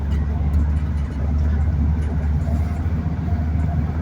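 Road traffic around a car driving on the Al Thumama road in Saudi Arabia: a steady, loud engine and road rumble with a dense low drone throughout, and no clear pauses.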